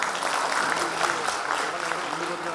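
An audience at a comic poetry gathering claps loudly and steadily, a dense, even patter of applause from a crowd of many hands.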